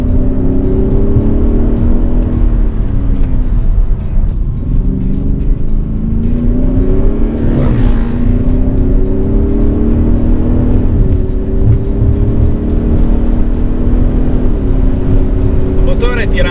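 A 2016-style Audi SQ7 ABT diesel SUV engine revs hard under acceleration, pitch climbing and dropping with repeated gear changes, loud and close with a voice talking over it.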